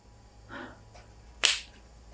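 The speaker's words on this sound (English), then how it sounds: "I'm going to clap my hands because then I see the audio waveform." A single sharp hand clap used as an editing sync marker, loud and close, preceded by a faint soft rustle, with no talking.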